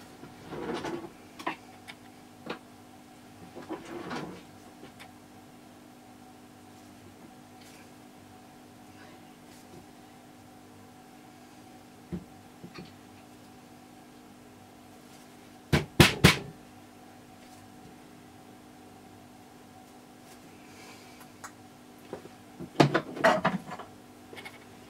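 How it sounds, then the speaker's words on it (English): Hammer and screwdriver prying open a steering yoke: scattered sharp metallic taps and clinks, a tight cluster of loud strikes midway and another burst near the end, separated by long quiet gaps. "I'll just put a screwdriver in there and just open it up a little bit"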